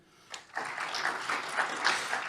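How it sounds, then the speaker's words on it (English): An audience at the 2021 Greater Corona regional fast pitch competition gives a short round of applause for the participants, with scattered claps swelling into steady, moderately loud clapping. "Again, a round of applause for them."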